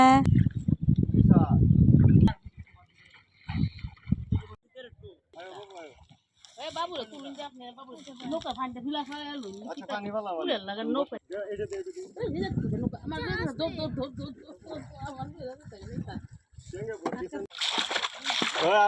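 A small boat moves through muddy water. A burst of loud splashing and sloshing comes at the start, then people talk nearby over faint water sounds.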